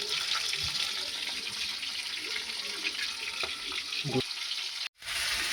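Steady frying hiss of four pieces of bata fish in hot oil, continuous and close, with faint clinks and a short cut-out near the end.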